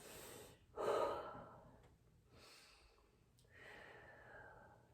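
Slow, deep breathing during a hip mobility stretch: two or three long, soft inhales and exhales heard up close, with a quiet airy hiss and no talking.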